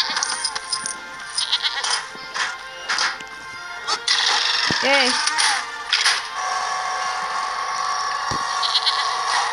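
A goat bleats in the video game Lego Jurassic World, a short wavering cry in the middle amid game sound effects, thumps and background music, with a brief spoken word.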